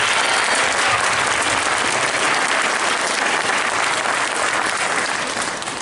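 Concert audience at a band performance applauding loudly and steadily, a dense wash of clapping that holds for several seconds before starting to taper at the end.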